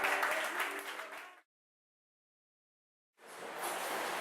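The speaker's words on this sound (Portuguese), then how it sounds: "Então um aplauso para o Senhor que está aqui nessa noite." A burst of crowd applause at a church convention that cuts off into silence, then resumes as steady clapping from many people.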